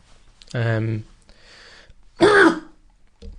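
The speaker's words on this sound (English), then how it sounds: "That was a cough." A short throat-clearing cough sounds up close, followed by a quiet breath and a second harsh, voiced cough.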